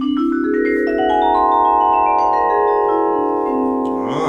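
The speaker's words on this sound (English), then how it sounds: "Another instrument we have here is known as the vibraphone." A single sustained vibraphone tone rings out clearly and alone, its bright metallic overtones holding steady and slowly decaying over several seconds, played by a percussion group.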